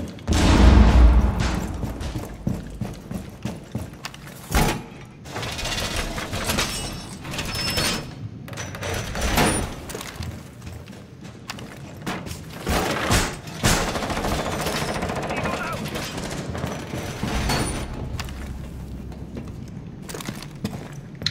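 Gunfire in Rainbow Six Siege on the Oregon map, bursts of automatic shots and sharp single cracks recurring across the stretch, loud and close amid thuds and game clatter, with little talk.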